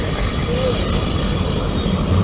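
A train rolls past close by with a steady, loud rumble and rattle of railcars, and a brief wheel squeal rises near the start over continuous broadband noise.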